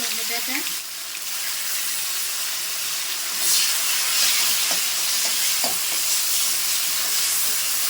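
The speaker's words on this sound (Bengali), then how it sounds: "ফোড়নে আমি শুকনো লঙ্কা তেজপাতা জিরে দিয়ে দিয়েছি" Dry red chillies, bay leaves and cumin seeds sizzle in hot oil as a tempering, a loud, steady crackling hiss close by with a few brief clinks and stirring scrapes.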